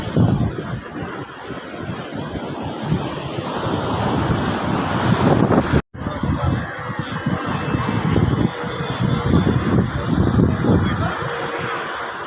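Surf at RK Beach in Visakhapatnam roars continuously with heavy wind buffeting the microphone, loud and close, with a brief cut partway through.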